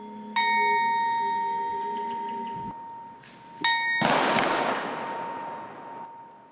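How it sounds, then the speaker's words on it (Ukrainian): A memorial bell at a memorial square rings out with a clear sustained tone, struck twice, the second strike louder and ringing on as it slowly fades. "У меморіальному сквері пролунав за ними дзвін пам'яті"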